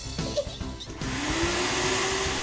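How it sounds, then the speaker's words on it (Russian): Household vacuum cleaner in an animated children's cartoon switching on after about a second, its motor spinning up to a loud, steady whirring roar with a rising whine that settles and holds. "Это мама пылесосить начала."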